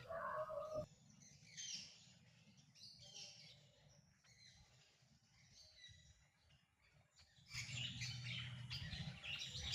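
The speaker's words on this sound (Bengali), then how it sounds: "পাখির কিচিরমিচির আওয়াজ শুনে" Caged parrots, mynas and bulbuls chirp and tweet at an ashram, scattered calls over a low murmur of background voices, fairly faint, with a busier burst of chirping near the end.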